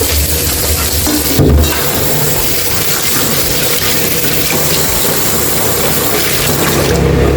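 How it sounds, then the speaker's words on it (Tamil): Rice being washed in water for a mutton biryani, a steady wet swishing and sloshing that runs throughout, fairly close and loud with no talk over it. "அரிசியாக கழுவிடுவேன்"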